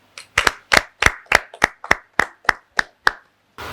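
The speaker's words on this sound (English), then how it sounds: "I think she deserves another round of applause" Audience clapping at a TV show taping, about eleven sharp, evenly spaced claps of a small group in unison, fairly close and loud with no talk, a short burst of noise at the end.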